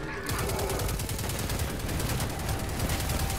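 Rapid, continuous gunfire from a weapon in the video game Destiny 2, a dense rattling burst that runs steadily throughout at a loud, even level with no pauses.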